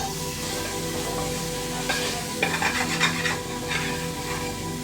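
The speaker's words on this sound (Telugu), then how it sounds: "రెండు పెద్ద సైజు ఆలుగడ్డలు ఈ విధంగా కోసుకున్నది ఇందులోకి వేస్తున్నాం" Two large chopped potatoes go into a pan with ginger and are stir-fried, a steady sizzle broken by scraping stirs and a few brighter clatters near the end.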